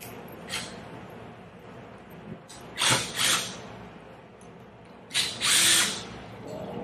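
Power tool with a 3/16 bit backing out the six bolts on the air valve of a bolted 2-inch metal Wilden pump, heard in a few short whirring bursts with quiet pauses between, close up.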